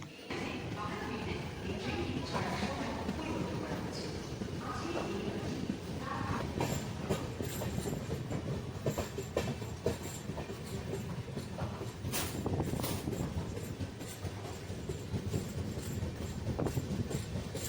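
A passenger train rolls along the rails on a route through Santragachi toward Howrah, with a steady loud rumble and rhythmic wheel clatter heard from inside the carriage, while people talk in the background.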